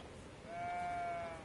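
A single sheep in the video game Elden Ring lets out one drawn-out, quavering bleat, faint and fairly clean against a quiet background.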